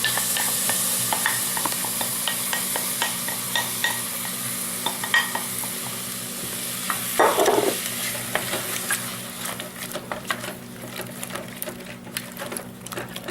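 Bacon and sour cream are stirred together as a sauce base in a pan, a continuous soft scraping and sizzling close by with a brief louder scrape midway, no one talking.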